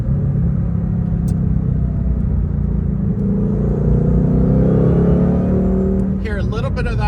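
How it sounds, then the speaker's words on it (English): A supercharged 5.2-liter V8 in a Shelby GT500 Mustang rumbles loudly and steadily from inside the cabin, with a faint rising supercharger whine building over the drone before a brief shift near the end. "Hear a little bit of that supercharger whine."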